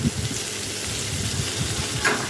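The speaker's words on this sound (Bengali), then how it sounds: "ওই একই তেলে আমি উচ্ছেগুলো ছেড়ে দিলাম।" Bitter gourd slices frying in hot oil give a steady close sizzle with soft crackles, and a brief brighter hiss rises near the end.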